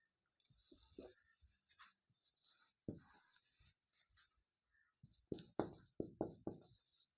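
A pen scratches out maths working on paper in short, quiet strokes with gaps between them. The strokes come faster and denser toward the end.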